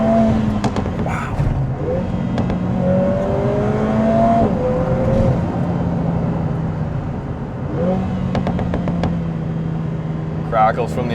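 Lotus Emira Turbo driven along a canyon road, its engine drone and revving shifts steady and close, with sharp exhaust crackles and pops breaking through intermittently; a voice speaks over parts of it.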